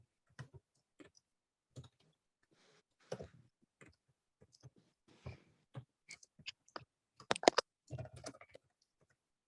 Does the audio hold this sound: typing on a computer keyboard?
yes